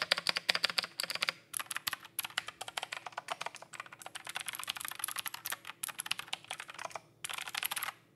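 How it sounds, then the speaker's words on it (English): Fast typing on a DAREU EK861 mechanical keyboard with clicky blue switches, crisp close keystrokes in quick bursts with short pauses between runs. "as for the blue switches, I can tell you they feel incredibly clicky"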